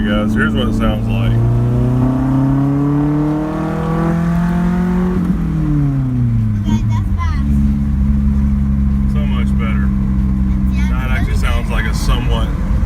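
A 1989 Nissan 240SX drift car with a new exhaust revs hard through rising and falling engine notes. It drops into a lower pitch midway and climbs again, loud and close, with voices briefly audible.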